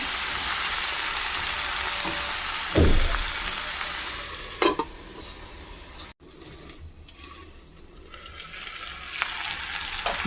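Bitter gourd and potato being stirred in a frying pan under a steady loud sizzle, with scraping spoon strokes and a couple of sharp clanks against the pan.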